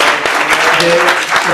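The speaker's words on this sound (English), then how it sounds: "I think they deserve a round of applause once more." Audience applause for a commission at a plenary session, a loud burst of many hands clapping heard under someone speaking over it.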